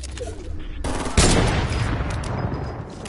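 A sniper rifle fires in a PS4 shooter game. A sharp shot lands at about one second, and a burst of game noise and gunfire follows. Faint voices can be heard underneath.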